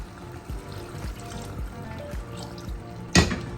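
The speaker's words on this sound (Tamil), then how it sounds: "கொஞ்சம் தண்ணி போட்டுக்கலாம்" Water pours and trickles into a pan of mutton pepper curry with soft clinks and a brief louder splash near the end, close by and with no talking.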